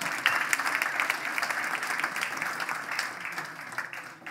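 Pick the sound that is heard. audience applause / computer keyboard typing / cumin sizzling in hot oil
audience applause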